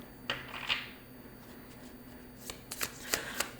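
Rainbow Brain Skull card deck being shuffled, quiet close riffles and papery card slaps in short bursts, a couple early then a quick cluster near the end, otherwise near silence.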